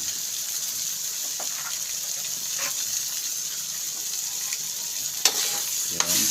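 Stirring sautéed bitter gourd (ampalaya) with egg in a pan, with a steady sizzle throughout and a couple of sharp scraping knocks near the end.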